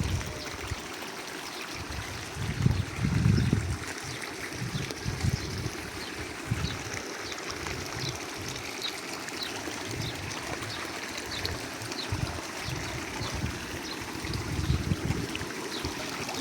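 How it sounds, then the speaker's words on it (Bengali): Water runs steadily through a drain beside large trees on a cold day, a continuous soft gurgling and trickling flow that stays even and fairly quiet throughout, with no voices. "চলছে পানি"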